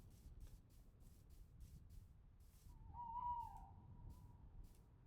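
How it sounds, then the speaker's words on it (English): An owl gives a short hoot somewhere in the middle distance, a single call rising out of steady outdoor ambience with flowing water and soft rustling. "nice little owl."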